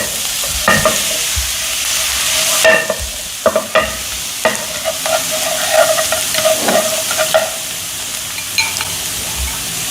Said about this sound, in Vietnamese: Giờ dầu cũng đã nóng rồi, em cho tỏi vào phi cho thơm luôn nè.